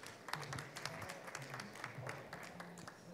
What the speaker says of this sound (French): can you applaud him, please?